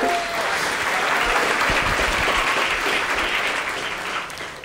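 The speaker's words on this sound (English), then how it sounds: "And I gotta get a round of applause" Audience at a spring recital breaks into steady, dense applause that holds at a loud, even level throughout, with a few voices faintly mixed in.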